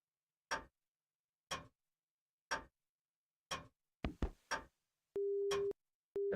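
A voicemail in the Fate/Stay Night visual novel ends with a tone: a series of evenly spaced ticking clicks, then a steady beep that cuts off and briefly resumes, clear and with no voices.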